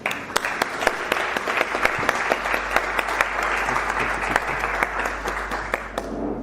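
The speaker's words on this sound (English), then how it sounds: "a big applause to our wonderful MCs, Babalwa and Rion," Audience applause fills a climate solutions forum hall, a dense, steady wash of many hands clapping with sharp individual claps standing out, sustained for several seconds at moderate loudness without talk.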